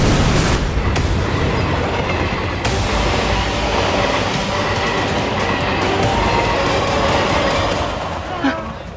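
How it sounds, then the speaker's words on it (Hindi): Loud rumble of a moving train in a TV drama, with steady heavy rolling noise, sharp clanks and a rattle toward the end. "तब तक मैं जाकर रेलगाड़ी को रोकने की कोशिश करता हूँ।"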